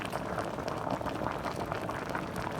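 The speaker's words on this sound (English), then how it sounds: "This is the moi moi boiling in the pot." Steady bubbling of a pot of Nigerian moi moi bean cakes boiling vigorously, a continuous close gurgle of liquid with no pauses.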